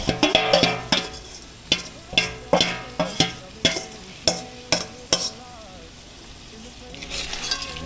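Crab frying in a pot as a base for curry, with sharp metal spoon strikes against the pot in a steady series of clanks over a soft, continuous sizzle. The stirring pauses briefly near the end.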